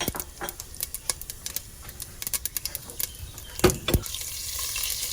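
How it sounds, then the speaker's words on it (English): Mustard seeds dropped into hot oil in a pot while making sambar, crackling and popping in quick irregular bursts, with a few louder pops near the end. "as soon as the oil is hot, we're gonna add a mustard seed"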